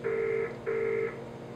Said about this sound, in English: we'll go ahead to the recent calls and we'll dial our tech support video conferencing unit